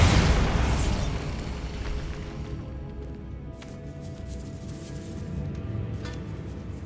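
In the video game Hogwarts Legacy, a Bombarda spell explodes with a loud opening blast that fades into a long rumbling decay inside a catacomb, with faint debris clatter afterward.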